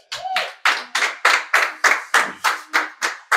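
A church congregation claps in unison to acclaim the word during a prophetic Sunday service, about eleven sharp, loud, evenly spaced claps in a steady rhythm with no talking.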